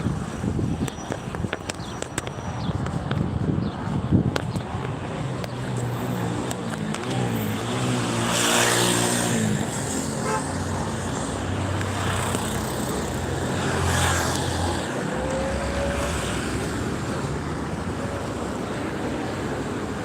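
Street traffic at a bus stop in Kuwait, with vehicles swelling past and fading, heavy wind buffeting the microphone, and a steady roar throughout without speech.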